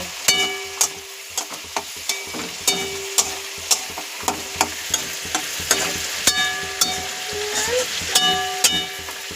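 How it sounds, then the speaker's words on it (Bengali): Okra frying in a pan with turmeric and salt while a spatula stirs it, giving a steady close sizzle broken by frequent sharp scraping clicks of the utensil against the pan. "দিয়ে এটা একটু নেড়ে ছেড়ে একটু ভাজা ভাজা করবো।"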